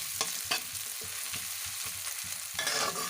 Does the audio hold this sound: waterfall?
no